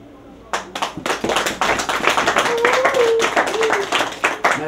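An audience at an anniversary evening press event claps, the sound starting suddenly and building into dense, close clapping, with a voice heard speaking over it.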